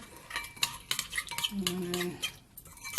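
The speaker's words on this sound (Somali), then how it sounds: "waxaan rabaa inaan ku soo darsado basal iyo xitaa ku darsan kartaa hilibkaaga" Chopped onion goes into a cooking pot for a rice and meat dish, with close scraping, stirring and metal utensil clinks against the pot, plus a brief faint tone partway through.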